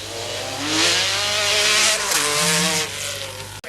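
An MG Metro 6R4 rally car at the 1985 Lombard RAC Rally, engine revving hard and steady as it slides through a four-wheel drift round a right-hander, loud and close with a rising and falling rasp.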